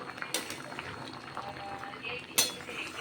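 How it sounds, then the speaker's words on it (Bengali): Papaya and bori shukto in milk bubbles uncovered on a high flame, a soft steady simmer with a couple of sharp clinks of utensils against the pot and some nearby voice. "এবার কিন্তু আর ঢাকনা দেব না, এমনি একটু হাই ফ্লেমে ফুটিয়ে নেব।"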